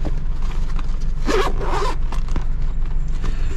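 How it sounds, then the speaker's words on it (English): A zipper is pulled closed on a bag, one loud close rasping zip with a brief pause partway, set against a steady low background hum. "zip it up"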